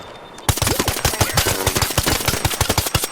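Rapid automatic gunfire in Arc Raiders, loud and close, with dense bursts of shots crackling in quick succession after a brief quiet start.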